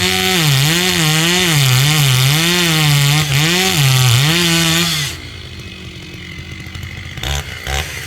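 A Stihl chainsaw with a 36-inch bar cuts into a big oak tree, its loud, close engine wavering up and down under load for five seconds before dropping to a rough idle with knocks.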